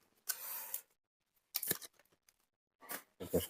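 A parcel of date-palm jaggery in patali form is unwrapped by hand, with foil and poly wrapping torn in three short crinkly bursts separated by quiet pauses.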